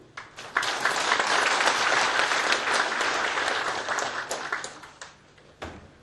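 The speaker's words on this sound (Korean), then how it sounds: "이럴 때는 박수 한번 쳐요." Audience clapping during a Korean-language memorial speech, a dense, steady burst of many hands that rises quickly, holds for about six seconds and thins out near the end.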